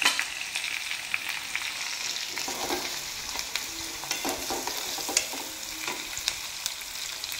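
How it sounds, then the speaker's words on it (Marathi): Onion frying in hot oil in a pan with cumin seeds and curry leaves, a steady close sizzle with scraping stirring strokes throughout, no voices. "कांदा छान आपण सॉफ्ट होईपर्यंत परतून घेणार आहोत तेलात 1 मिनिटभर।"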